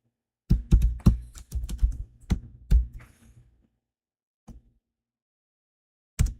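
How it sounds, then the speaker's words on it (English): Fingers tap on a computer keyboard in a quick burst of close, crisp keystrokes, then pause, with a couple of isolated taps afterward. "I want to check for these files"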